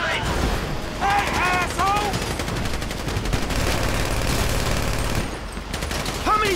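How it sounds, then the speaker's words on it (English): Rapid bursts of gunfire crackling continuously during a bank robbery shootout with police in GTA V, with shouted voices breaking in now and then. "You hear that gunfire? That's how I'm doing."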